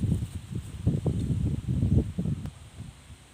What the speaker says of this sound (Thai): วันนี้ลมดีจริงๆครับผม โอ้ลมแรงมากเลย